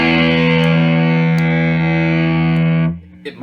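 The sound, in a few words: electric guitar through op amp distortion pedal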